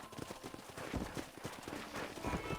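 Hooves of a pack of wild horses in the video game Red Dead Redemption clatter in a steady, busy clip-clop over a dense bed of ambient game sound, fairly close and continuous.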